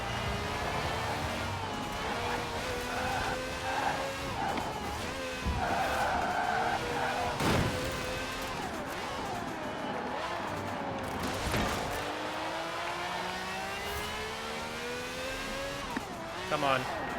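Car engine revving and tires skidding in the racing video game Forza Horizon 4, a continuous loud drone with rising gear pitches and repeated squealing slides, steady throughout.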